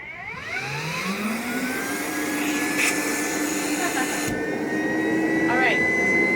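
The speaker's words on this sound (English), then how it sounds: "I'm going to turn the machine on." A Rainbow vacuum cleaner starts and spins up, its motor whine rising in pitch before settling into a loud steady roar, with brief clicks and a voice speaking partway through.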